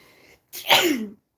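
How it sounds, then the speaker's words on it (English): A single sharp human sneeze brought on by hay fever, with a short quiet intake before an explosive, breathy burst that fades quickly, close and loud outdoors. "I'm going to sneeze, hang on."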